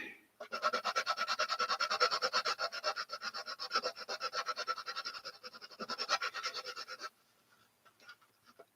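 A sandpaper-covered MDF sanding block rubs rapidly back and forth over a plastic model car part, a close, rhythmic rasping scrape for about seven seconds before stopping, followed by a few faint handling sounds.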